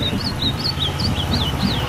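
Ultramarine grosbeak (azulão) singing, a string of short, faint, high chirping notes repeating steadily over a low background hum.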